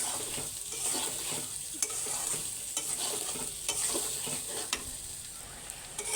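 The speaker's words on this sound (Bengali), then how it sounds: "এই দেখুন পেঁয়াজও ভাজা হয়ে গেছে আলু কষানো হয়ে গেছে" Onions and potatoes frying in oil in a pan for an egg dish, a continuous close sizzle broken by repeated sharp scrapes and taps of a spatula stirring, no voices.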